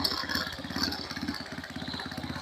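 A Euro 150 motorcycle engine runs close by at a steady idle, its low, even chugging pulses continuing without a break.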